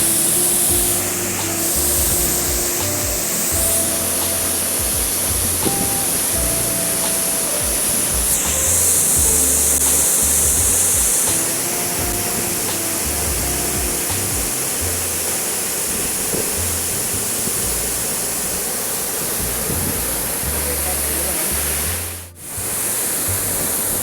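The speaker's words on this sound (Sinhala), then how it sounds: "ඇල්ල." Steady roar of rushing water at a waterfall in Sri Lanka, broadband and continuous at close range, with no voices over the torrent.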